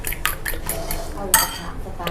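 Eggs beaten with fish sauce in a bowl for a straw mushroom omelette, a utensil clinking rapidly and repeatedly against the bowl, close and fairly loud, with a kitchen background.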